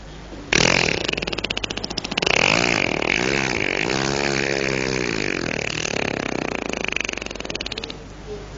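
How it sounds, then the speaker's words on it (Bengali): A motorcycle with a jammed engine fails to start: loud, close sputtering and uneven revving that rises and falls in pitch for several seconds, then trails off in rough pulses, with no speech. "কাজ হচ্ছে না, মনে হয় একটু জাম হয়ে আছে ইঞ্জিনটা"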